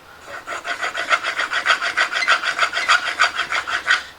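A plane blade is pushed back and forth across a 4000 grit sharpening stone, making a close, regular series of about a dozen scraping strokes with no voices.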